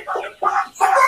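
A young rooster, about six and a half weeks old and weighing 1.2 kg, gives three short, close clucking calls in quick succession.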